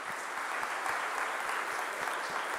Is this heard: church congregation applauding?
yes